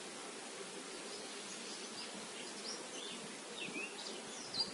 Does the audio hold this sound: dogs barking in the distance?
no